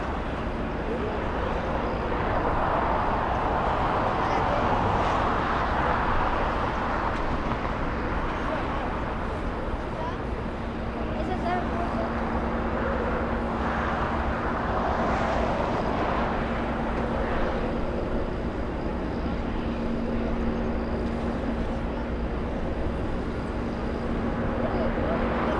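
A passenger airplane arriving at Los Angeles International Airport on a roughly five-hour flight from Anchorage, Alaska, gives a steady, distant engine roar that hangs at an even level throughout, with a voice talking over it.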